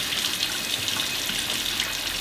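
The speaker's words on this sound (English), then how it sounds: "I'm just going to wash these channels really well." Running tap water pours steadily onto grow system channels being washed, a constant close hiss and splash with no talking.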